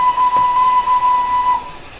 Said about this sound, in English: That was just the standard spacebar loop whistle.